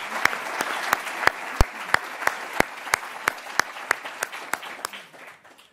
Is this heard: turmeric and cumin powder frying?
no